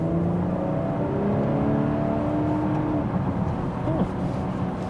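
BMW X5 xDrive40i, 2019 G05 model, cruising on a highway: a steady cabin drone of engine and road noise holds at an even level the whole time, with no talk.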